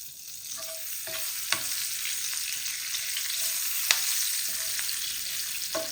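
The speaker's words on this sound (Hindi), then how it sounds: "अब यहाँ पे मैं कड़ी पत्ता डाल दूंगी।" Curry leaves sizzling in hot oil for a besan kadhi make a steady, close crackling hiss with scattered sharp pops and a few light utensil taps, with no one talking.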